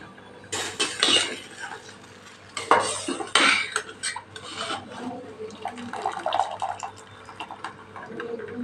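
Blanched spinach goes straight into a pot of cold water while making Punjabi palak paneer, with clattering metal, scraping and stirring, and splashy handling of pot and utensils in bursts close up and no talk.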